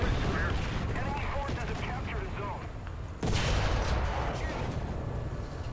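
Cannon fire from a 45 mm tank gun on an SMK multi-turret tank in War Thunder booms amid continuous rumbling battle noise, with one loud sharp blast about midway, as a player talks over it.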